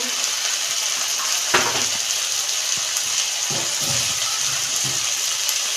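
Ground cumin, coriander, chili and turmeric fry in a pan for a fish curry with cauliflower, potato and beans as a little water goes in, giving a loud, steady hiss and sizzle with occasional spoon knocks.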